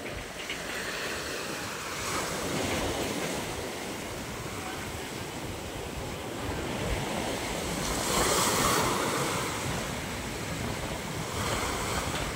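Heavy ocean surf roars continuously, strong waves crashing and swelling louder at moments, with wind rumbling across the microphone.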